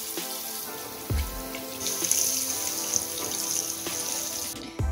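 Water runs from a tap into a sink while pennies are scrubbed with soap, a steady close splashing hiss with a few clinks and knocks of handling.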